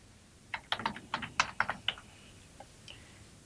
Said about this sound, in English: Begin by typing out on the top line the account to which you belong